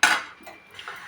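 A metal spoon scrapes and clinks against a pan while banana-peel spice paste is stirred, one bright scrape up front followed by softer clicks, close and brief with no voices.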